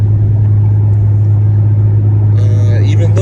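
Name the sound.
car driving on road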